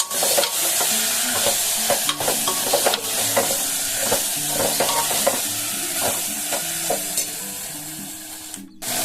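Chickpeas stirred through chana masala in a hot pan, sizzling steadily while a spoon scrapes and taps in an uneven rhythm, then a brief sharp clatter near the end, no talk.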